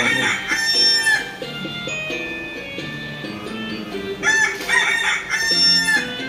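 Several roosters crow loudly and close by in long, rising calls, one after another, as a sound effect in a story, with a few clucks in between.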